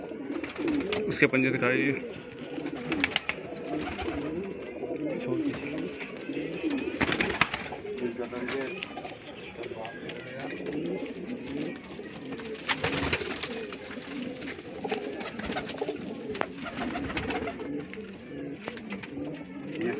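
Pigeon chicks and adults at a loft in Bareilly, Uttar Pradesh, coo continuously throughout, close and busy, while someone talks over them at intervals.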